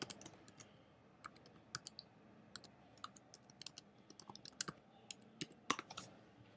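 Typing on a computer keyboard while running a Google search, with scattered light key clicks in irregular bursts over a quiet room background.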